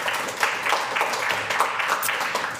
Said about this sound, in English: So let's give a big round of applause for the Chilliwack Chamber of Commerce.